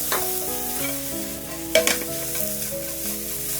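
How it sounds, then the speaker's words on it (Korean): Browned onions sizzle in a hot pan as small splashes of water are added to lift the stuck colour, a close crackling hiss with a sharper burst partway through. "양파의 갈색이 어느 정도 나왔을 때 물을 소량씩만 넣어가면서 팬에 달라붙어 있는 색깔을 빼준다고 생각하시면서"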